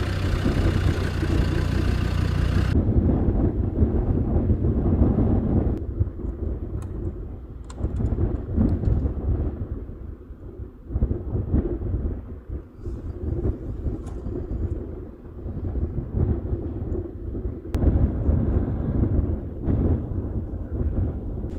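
Strong wind buffets an overland campsite in Sardinia, a constant heavy low roar with gusting swells that continues through the whole stretch and drowns out other sound.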